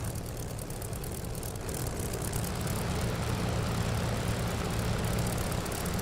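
A piston aircraft engine idles in a flight simulator, heard from outside the plane as a steady, loud low drone with a constant propeller throb that holds evenly throughout.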